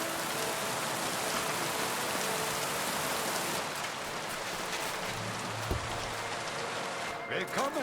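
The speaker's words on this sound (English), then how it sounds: "Oh, don't mind the rain." Steady rain in the video game Kingdom Come: Deliverance 2 hisses and patters throughout, a dense even wash of droplets, with a brief faint thump near the end.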